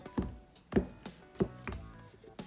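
A knife chopping through hand-kneaded Emmental cheese bread dough on a board, five or six sharp, close, evenly spaced chops with quiet gaps between them.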